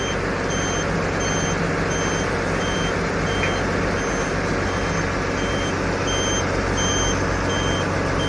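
A loaded truck at the Mata no Madh mine in Kutch gives off steady, repeating reversing beeps over a continuous heavy engine rumble and site noise, with no voices.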